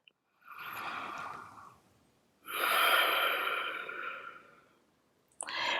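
Slow, deep breaths during a yoga leg and hip stretch: a soft inhale, then a longer, louder exhale, and another breath starting at the end, close and clear with no talking.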